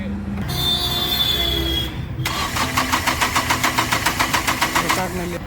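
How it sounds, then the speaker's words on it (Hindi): A Mahindra Bolero pickup's starter whirs in a fast, steady rhythm as the engine cranks but fails to catch, preceded by a short electrical whine and background noise. "गाड़ी क्रैंकिंग कर रही है बट स्टार्ट गाड़ी हमारी नहीं हो रही है"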